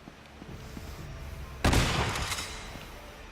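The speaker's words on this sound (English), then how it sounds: "And now he's got a shotgun." A single booming shotgun blast in the Uncharted: Golden Abyss video game, heard over a steady game background with a long rumbling tail.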